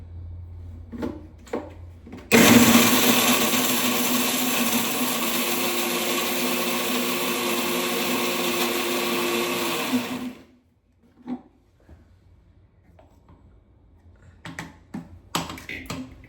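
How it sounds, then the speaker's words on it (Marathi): A mixer grinder whirs loudly for about eight seconds grinding coconut, a harsh steady buzz between quieter clicks and handling noises before and after. "अर्धं मिक्सरला असंच कच्चं बारीक करणार आहे"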